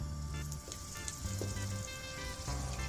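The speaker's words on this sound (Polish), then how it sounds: "chwileczkę go podsmażam" Garlic cloves frying in hot oil give a continuous, fairly quiet crackling sizzle with faint pops and clinks from the pan, heard close with no voices.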